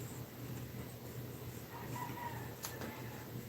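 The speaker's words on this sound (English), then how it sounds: "there's suddenly a cock crowing" A neighbour's rooster crows once, faint and distant, a short drawn-out call rising above a steady low indoor hum.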